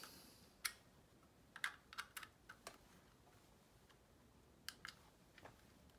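Keys on a wireless Moonlander keyboard tap out sparse, irregular clicks, soft and close, with short pauses between small clusters of strokes and no voices.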